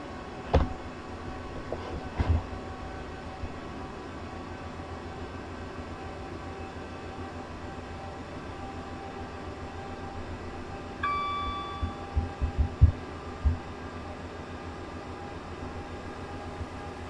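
A Gatwick Express electric train in Train Simulator 2019 runs from London Victoria to Gatwick Airport with a steady motor whine and rolling hum, scattered clunks over rail joints and a brief tonal chime midway.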